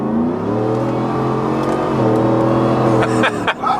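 A 2022 Ford F-150 fitted with a Borla ATAK exhaust revs from inside the cab, a loud, steady engine drone whose pitch rises and holds before dropping off near the end.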